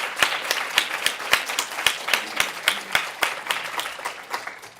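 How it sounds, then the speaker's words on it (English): Audience at a university student scholarship opening ceremony clapping for faculty mentors, a steady round of applause with sharp individual claps in an indoor hall, moderately loud and without speech. "So if we could just give the faculty mentors a round of applause."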